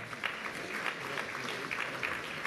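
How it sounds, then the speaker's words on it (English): Audience applause for Stephen Traynor at the Los Angeles Business Council Summit, a steady wash of clapping from a seated crowd, moderately faint and even throughout. "Let's give one more round of applause to Stephen Traynor."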